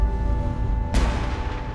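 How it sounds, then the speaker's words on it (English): Cannon fire booms out from the Tower of London, a single deep, loud report rolling in after a low rumbling background and leaving a broad reverberating tail. "Cannons at the tower fire out, reverberating across London"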